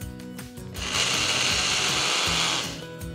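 A kitchen mixer grinder whirs steadily for about two seconds as it blends soaked sago with green chili pieces and slices of ginger, with quieter clatter before and after the run.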